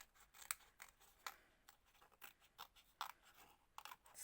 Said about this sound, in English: Now we will need a pair of scissors and then we will cut our paper bat.